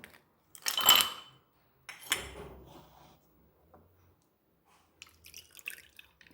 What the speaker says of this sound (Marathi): इथे मी आईस क्यूब घालून घेते